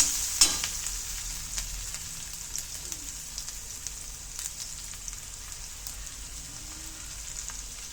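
Garlic and ginger fry in hot oil for a Tamil egg gravy, a steady close sizzle that runs unbroken throughout, with a sharper clatter near the start.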